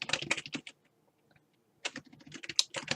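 Keys rattle quickly on a computer keyboard as code is typed for a Python MySQL login program. The taps come in two close, crisp bursts with a short pause between them, and no voices are heard.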